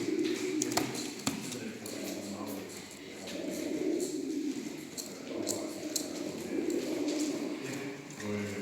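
Crowd of racing pigeons at a pigeon show giving continuous low throaty coos, with occasional sharp taps and a person speaking over the birds.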